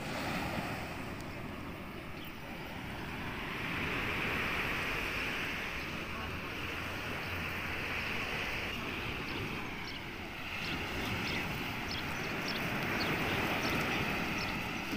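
Sea waves washing onto a beach in Mersin, Turkey, a continuous broad surf roar that swells and eases, with some wind buffeting the microphone and no nearby talk.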